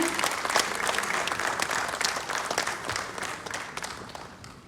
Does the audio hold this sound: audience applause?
yes